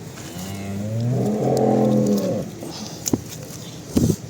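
A one-month-old calf gives a single drawn-out moo lasting about a second and a half, fairly close, followed by a few short clicks and knocks in a quiet farm setting.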